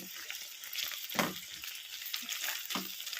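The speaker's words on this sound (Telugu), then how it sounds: "కరివేపాకు పుదీనా వేసి వేయించుకున్నాను" Curry leaves, mint and ginger sizzle in hot oil for okra chutney, a steady crackling fry with a few louder spits and stirring bursts, close and alone.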